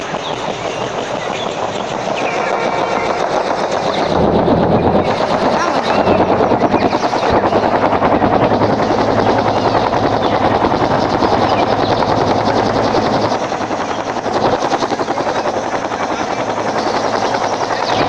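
Aeroplane engine in the Space Gangster video game, a loud continuous droning roar that holds steady throughout with a slight dip partway through.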